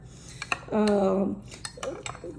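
A spoon stirring yeast in a container, light clinks and scrapes with a brief hum-like tone partway through, close and fairly loud.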